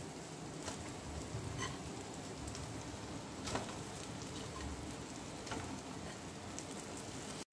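Chicken pieces hit a hot pan for a Korean-style chicken dish, giving a steady, dense sizzle that holds at an even level throughout, with a few faint crackles and no voices.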